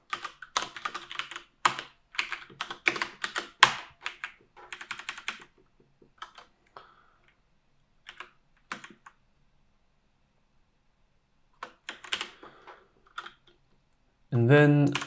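Typing on a computer keyboard while building a spreadsheet model comes through as rapid bursts of close key clicks, then sparse taps and pauses, with a voice speaking at the end.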